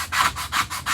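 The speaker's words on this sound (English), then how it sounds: "I'm going to take my paste scraper and I'm just going to scrape this off" A paste scraper is dragged across a wet surface to lift chalk paste, making three rhythmic, close, harsh scraping strokes with short pauses between them and no talking.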